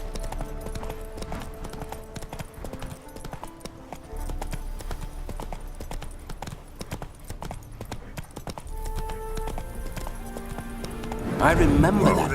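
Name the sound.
spooked horse Roach in video game The Witcher 3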